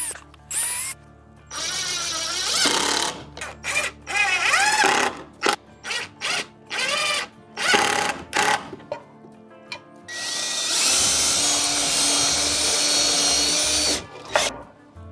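A power drill pre-drills small, thin pieces of wood during a garage cleanup, whirring in a series of short bursts with pauses, then one longer steady run near the end, close and loud with no talking.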